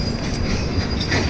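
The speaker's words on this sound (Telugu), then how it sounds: "ట్రైన్ చూడండి టర్నింగ్ అవుతుంది" A passenger train with a Vistadome glass coach rounds a curve on the Vizag–Araku line, steady close rumble of wheels and carriages with faint high wheel squeal throughout, no voices.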